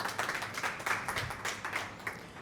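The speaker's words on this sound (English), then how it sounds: "Can we give them a round of applause?" An audience applauds for the Zambian team at a mining and energy media workshop, with brisk, dense clapping from a crowd that holds steady for a couple of seconds.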